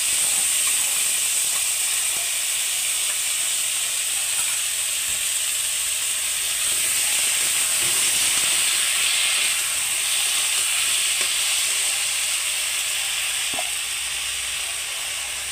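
Ground spice paste hits a hot pan of reddened vegetables for a Bengali rui fish curry with karkul and potato, letting off a steady close hissing sizzle that holds without a break.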